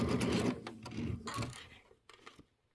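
A sewing machine stitches pieced quilt blocks in short, busy bursts of mechanical rattle, fairly close, stopping and starting before trailing off into quiet near the end.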